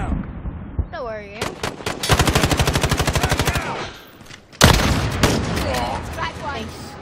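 Black Ops video game gunfire and reloading: a rapid, loud burst of automatic fire, a weapon reload, then another heavy blast and further shots, with game effects and brief voices mixed in.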